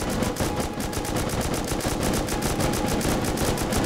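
Rapid, steady machine gun fire from an online shooter game, a dense unbroken stream of shots at close range filling the whole moment, with no talking over it.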